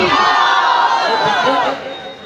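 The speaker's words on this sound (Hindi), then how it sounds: "अब नारा लगाइएगा कुरान की मोहब्बत में, नारे तकबीर" A large crowd at a religious gathering in Purnia, a jalsa for a turban-tying ceremony, roars a chant in unison, loud and close for about two seconds before the voices trail off.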